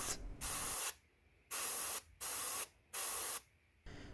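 Four short bursts of gloss varnish sprayed from an airbrush or can onto a scale model jet engine exhaust nozzle, each a steady hiss of about half a second with brief quiet gaps between.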